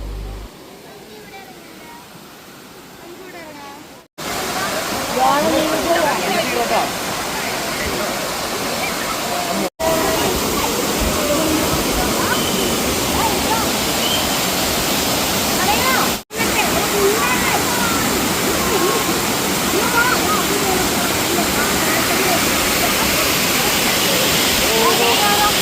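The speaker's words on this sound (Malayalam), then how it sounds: "കുന്നിന്ന് ഒഴുകി വരുന്ന വെള്ളം വെള്ളച്ചാട്ടം പോലെ വരികയാണ്" A hillside stream pours down like a small waterfall, a loud, steady rushing wash with short cuts in between; people talk faintly over it early on.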